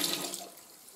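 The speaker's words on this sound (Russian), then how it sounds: "И выливаю воду, которую мы подогрели с сахаром и с лимонной кислотой." Warm water mixed with sugar and citric acid pours onto elderflowers, a short, soft splashing rush heard close and alone.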